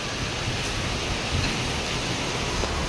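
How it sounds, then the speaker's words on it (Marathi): Heavy rain pouring on a highway near Panvel, a dense continuous hiss of downpour, loud and steady throughout with no voices. "लई जोरदार पाऊस आलाय, लई जोरदार"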